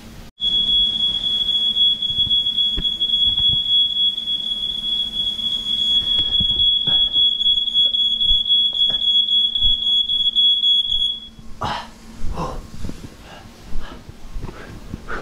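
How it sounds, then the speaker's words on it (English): A kitchen smoke alarm set off by searing steak sounds a loud, continuous high-pitched beep for about eleven seconds, then cuts off, leaving faint kitchen clatter and scattered clicks. "Come on, alarm. Stop bugging me."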